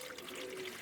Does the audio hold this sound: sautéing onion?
no